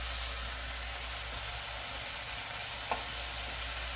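Half-cooked meat and mushrooms stir-frying in a pan for japchae, giving a soft, continuous hiss-like sizzle throughout with one brief clink near the end.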